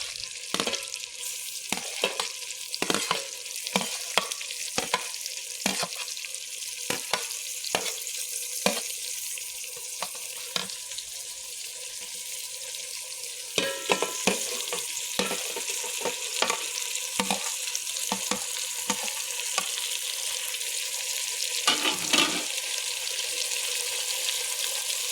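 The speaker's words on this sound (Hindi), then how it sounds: "अब इसको थोड़ी देर भूनेंगे।" Ginger garlic paste and tomatoes frying in a pan for chicken biryani, a steady soft sizzle with repeated scraping and stirring clatter at an irregular rhythm, close and moderately quiet.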